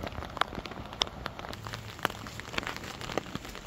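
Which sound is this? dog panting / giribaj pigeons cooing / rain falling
rain falling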